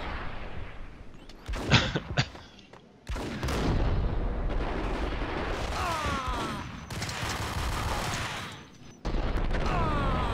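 Bombs explode in the action shooter game Max Payne, with booming blasts and crackling gunfire in loud bursts separated by short quieter gaps, close and heavy in the low end.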